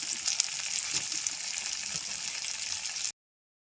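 Ground chilli, cumin and coriander masala fries in a pan with a bright, continuous sizzle at a close, even level. After about three seconds it cuts off abruptly into silence.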